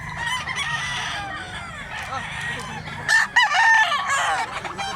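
A rooster crows loudly and close, sustained harmonic calls with a sharper burst near the end, amid other fowl clucking at a rooster market in Mantalungon, Cebu; no talk is heard.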